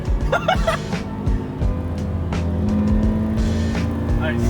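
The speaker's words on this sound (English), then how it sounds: "Listen to that stock exhaust, baby." A Toyota 86 with its stock exhaust drones steadily from inside the cabin as the engine pulls and revs, a low continuous hum under road noise, while occupants talk over it.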